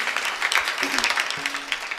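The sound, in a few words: audience applauding at a kirtan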